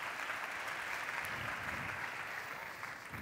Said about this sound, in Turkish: Alkışlarla çıkalım.